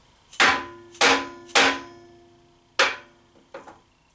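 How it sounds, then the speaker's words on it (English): A mallet drives a lathe spur center into a wood blank: three sharp knocks in quick succession, a pause, then a fourth blow and two lighter taps, close and clear. "Now we simply take our mallet and drive the spur center in."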